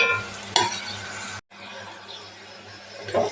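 Onion pieces fry in a pan with a steady sizzle while a spoon stirs and scrapes them, briefly interrupted by a moment of silence.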